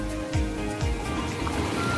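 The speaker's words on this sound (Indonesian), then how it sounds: "Ombak ini gelemangan" Ocean waves wash near a small fishing boat at sea, a steady surging swish with two brief low thumps of water against the hull, no talking.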